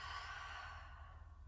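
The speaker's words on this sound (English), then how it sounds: "And exhale, heart center." A slow, soft exhale during a home hatha yoga flow, a single breathy outflow of air, close and quiet, with no talk over it.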